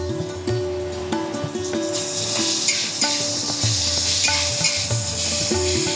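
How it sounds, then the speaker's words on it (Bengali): Ginger-garlic paste drops onto softened onions in a hot pan for a soya dalcha, setting off a close, sharp sizzle that swells into a steady hiss, punctuated by repeated spatula scrapes and taps. "এবার এতে দিয়ে দিচ্ছি আদা রসুনের পেস্ট।"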